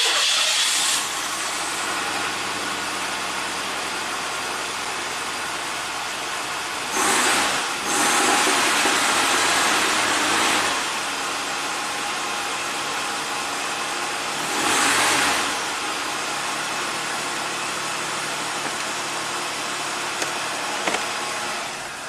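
The engine of a 1985 Oldsmobile idles steadily for a long stretch after a hose replacement, a close continuous hum with bursts of hissing rush that swell and fade several times.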